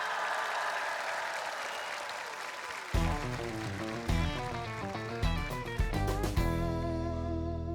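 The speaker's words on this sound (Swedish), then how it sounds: "En stor applåd!" A television studio audience at Melodifestivalen 2023 applauds Petra Mede, a dense, steady wash of clapping that carries on as music with heavy beats enters and builds underneath.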